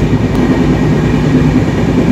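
Constant low rumble of a long-distance passenger train from Howrah rolling along rails, heard from nearby, loud and unbroken for the whole stretch.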